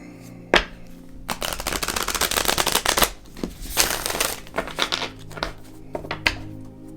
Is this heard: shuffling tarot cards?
yes